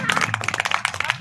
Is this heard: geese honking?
no